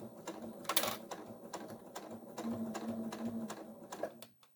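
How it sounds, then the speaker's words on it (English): A sewing machine stitches the side of a zipper bag closed in quick rattling bursts, with short pauses between the runs and a faint close-up hum of the motor. "lock that stitch in, and I'm just sewing this side all the way closed"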